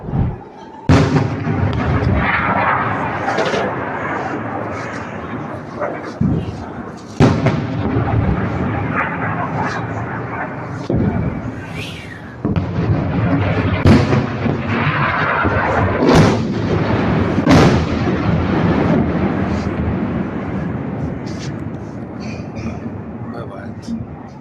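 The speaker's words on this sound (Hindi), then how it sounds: "אתם לא יודעים איזה פיצוצים פה בנהריה" Missile explosions in Nahariya, Israel: several heavy, sharp booms and rumbling blasts at irregular intervals, loud and close, over constant excited talking.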